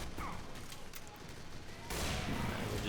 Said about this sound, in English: And I'm now using my SMG.